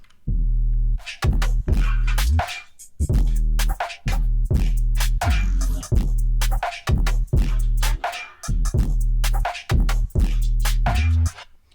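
A punchy electronic loop repeats steadily, with heavy bass hits and crisp percussive clicks cycling in a tight, even rhythm.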